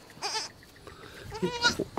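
A baby goat bleats in a few short wavering calls, close and fairly clear, with quiet gaps between them and a louder bleat near the end.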